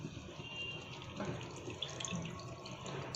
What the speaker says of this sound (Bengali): এবার আমি এর ভিতরে ঝোল দিয়ে দেব